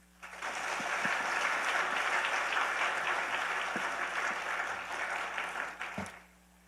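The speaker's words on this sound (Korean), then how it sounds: "환영의 박수를 해주시면 감사하겠습니다" A church congregation gives a sustained, dense round of welcoming applause for a visiting pastor at a teachers' seminar. The clapping swells quickly, holds steady for several seconds, then fades out, with no talking over it.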